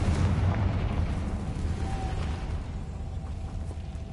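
An explosive Confringo spell is cast in a video game, a dense, continuous rumbling blast that roars steadily for a few seconds with no voices over it.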